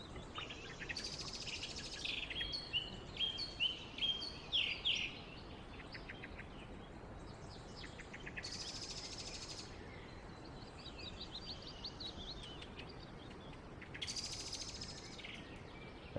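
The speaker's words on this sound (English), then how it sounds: "Absolute silence other than bird song." Birdsong at a still loch, short bursts of chirps and trills from nearby birds in several phrases over a quiet, steady background hush.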